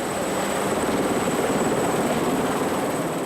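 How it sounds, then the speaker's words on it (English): A rescue helicopter flies over Mont Blanc, its rotor a loud, steady, close whirring roar that fills the whole stretch. "the helicopter returns with the stretcher needed to get him off the mountain"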